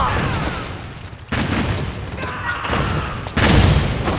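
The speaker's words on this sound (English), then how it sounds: "Nice grenade." Booming grenade blasts in Metal Gear Online, with a sharp burst partway through and a stronger detonation near the end, over a steady bed of game noise and faint player chatter.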